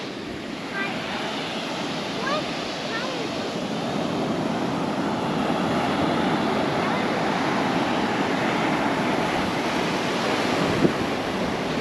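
Ocean surf on a beach on the Washington Peninsula, a continuous broad wash of breaking waves with wind rumble against the microphone, steady and fairly loud throughout.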